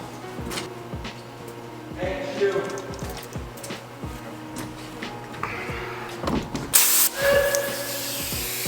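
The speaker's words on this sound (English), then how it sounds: "I'm gonna blow it out with some compressed air, see what happens." Compressed air hisses in short bursts through a K&N air filter from a Jeep, close and moderately loud, with handling clatter and faint background sounds between the blasts.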